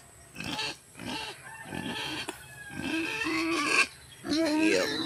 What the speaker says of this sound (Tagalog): yung baboy napakaingay, ang ingay